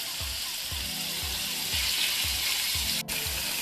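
Butter and olive oil sizzle over high heat on a handheld grill, a bright continuous hiss over a soft, regular low pulsing, with a brief dip near the end.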